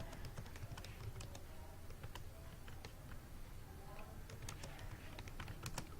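Computer keyboard typing while text is entered in InPage software: a quiet, steady run of close key clicks over low room hum, with no speech.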